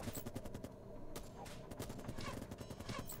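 Enemy gunfire in the Camp Defense video game, a steady stream of rapid shots and bursts with sharp clicks at times, moderately loud and continuous throughout with no one speaking.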